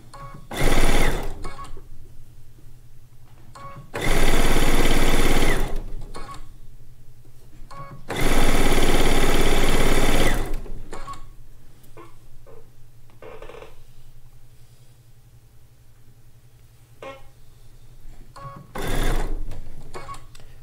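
A compact embroidery-style sewing machine quilting in a small 4x4 inch hoop runs in three loud, steady stitching bursts of a few seconds each, with quieter mechanical clicks and hoop movements in the pauses between.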